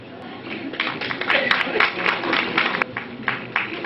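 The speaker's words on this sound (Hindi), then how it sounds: "कृपया तालियां बजाते रहेंगे" An audience claps at a school reunion prize announcement for carrom and table tennis winners, a short burst of scattered, uneven hand claps rising and falling with a voice over it.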